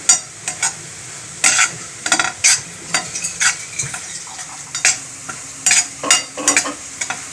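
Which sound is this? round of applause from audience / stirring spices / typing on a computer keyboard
stirring spices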